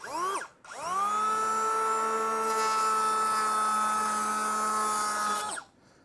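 A power planer cuts through small wooden pieces held in a jig at an off-grid workshop in Africa, a loud, sustained whining motor tone that spins up, holds steady for several seconds, then winds down, with a brief burst just before.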